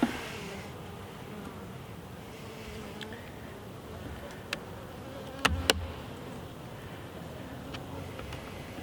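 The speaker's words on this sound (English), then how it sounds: "We've got quite a few bees in here now, as you can see." Honey bees buzz steadily around an opened hive during a queen release, a continuous hum with a few sharp clicks and knocks from the beekeeper handling frames.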